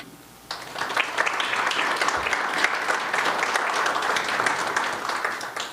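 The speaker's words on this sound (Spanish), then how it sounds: "también queremos dar un caluroso aplauso para los familiares de don Miguel Montes García." Warm audience applause at a public ceremony: steady, dense clapping from a large crowd that starts abruptly and keeps up evenly to the end.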